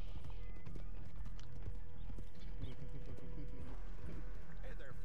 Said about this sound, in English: Why is my horse not answering me?